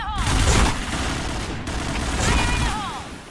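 Rapid bursts of gunfire in a competitive PUBG tournament match, loud and close, with a sustained volley followed by a second flurry and ricochet-like whines.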